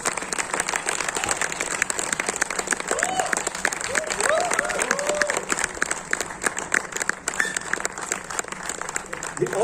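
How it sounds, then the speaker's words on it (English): A festival audience gives a long, dense round of applause as cricket legend Muttiah Muralitharan is welcomed on stage, clapping steady and loud with a few voices calling out over it. "With a big round of applause, please welcome on the stage Mr."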